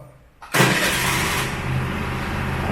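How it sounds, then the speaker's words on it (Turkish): A Honda Spacy 110 scooter engine cranks on its electric starter and catches after a brief pause, then settles into a steady, loud idle close by. "Bas abi marşa var mı o ses?"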